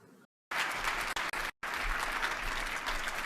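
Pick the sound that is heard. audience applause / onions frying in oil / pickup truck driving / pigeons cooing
audience applause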